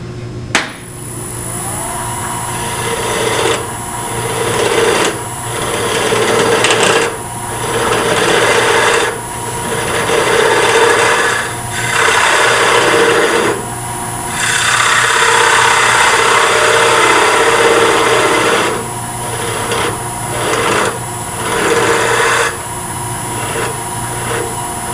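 Wood lathe spinning the base of a segmented bowl, with a steady motor whir under repeated scraping bursts of a tool cutting and rounding off the bottom wood, loud and close with short pauses between cuts.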